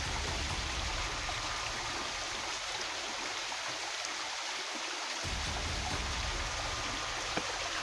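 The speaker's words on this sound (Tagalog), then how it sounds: "may tubig talaga yung malabas galing sa taas" A small waterfall pours water down from above, giving a steady, dense rushing roar that fills the scene continuously without voices.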